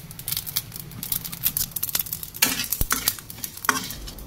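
A pan of tangy Indian gooseberry pickle with pre-roasted five-spice mix gets stirred vigorously, close scraping and rattling strokes over a light sizzle, with no voices.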